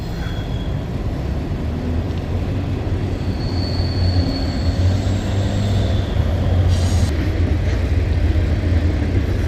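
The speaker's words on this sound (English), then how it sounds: "That's the train going to the tunnel." A train rumbles steadily past toward a tunnel near Shepherdstown on the C&O Canal towpath, with a constant low roar and occasional high wheel squeal, loud and close throughout.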